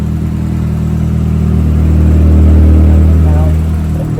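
A turbocharged Nissan Hardbody truck engine revs hard on a Mustang dynamometer, a loud steady drone rising and holding in pitch, with someone talking over it.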